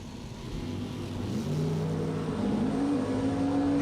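A bracket drag racing car launches down the strip, its engine note rising and climbing in pitch as it pulls away, moderately loud against a hazy outdoor background.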